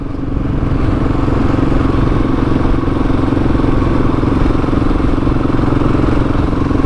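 A Husqvarna 701 motorcycle being ridden on a road gives off a steady, loud, continuous engine drone with wind and road noise and no change in pace.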